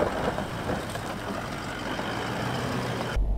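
Toyota Land Cruiser 200 heading back down a steep off-road hill after wheel spin, a steady low engine rumble and drivetrain noise throughout, close and continuous, cutting off abruptly at the end.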